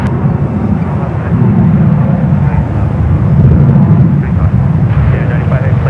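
An airliner takes off at San Francisco airport with a steady, loud jet roar that rumbles throughout, while a voice talks over it.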